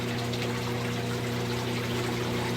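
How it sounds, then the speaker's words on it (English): Steady rushing water pours through the overflow and return pumps of a 700-gallon reef aquarium system, a constant close hiss and trickle over a low pump hum, with no voices. "So then it just goes by the flow of the water."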